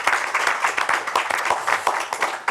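Audience applause at a school writing-prize final, with clapping from a hall full of people that rises and falls in uneven bursts across the whole stretch.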